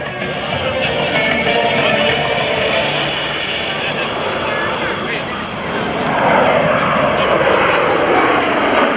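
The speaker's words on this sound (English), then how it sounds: "The MV-22 Osprey right now turns back." An MV-22 Osprey tiltrotor flies a demonstration at an Air National Guard open house airshow in Rhode Island, its loud, steady engine and rotor roar continuous throughout, swelling slightly near the end, with an announcer talking over it.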